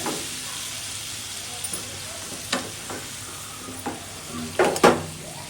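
Vegetables frying in a pan on a brick-built stove while khichuri is cooked, a steady sizzle with scattered stirring scrapes and clinks that grow louder near the end, no talk.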